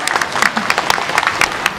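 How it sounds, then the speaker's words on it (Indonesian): A studio audience on an Indonesian religious TV program claps in a short, scattered burst of applause, with crisp overlapping hand claps close by and no talking. "Ya, tepuk tangan dulu dong."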